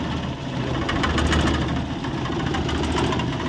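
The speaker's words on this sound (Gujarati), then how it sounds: "તમે ગાડીનો અવાજ સાંભળી શકો છો" A vibrating car engine, its silencer due for replacement, idles nearby with a rough, pulsing low rumble and faint knocking ticks, steady and loud with no voices over it.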